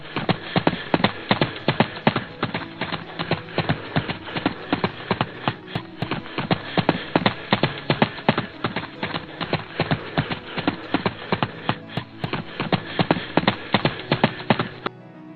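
A cartoon horse pulling a cart clip-clops in a steady, even trot. The close, regular hoofbeats continue unbroken throughout, with no voices.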